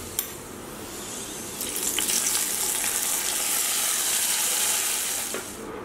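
Hot ghee with fried cashews and raisins is poured into a pot of adapradhaman payasam, giving a sharp spit followed by a steady, close sizzle that swells and holds for several seconds before fading, with no voices.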